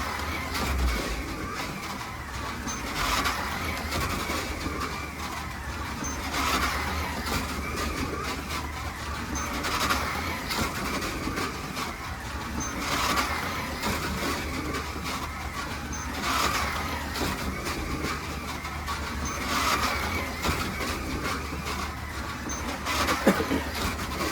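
Scalextric slot cars whir continuously around a track, a low steady electric hum with faint rhythmic swells as the cars lap, fairly quiet and uninterrupted.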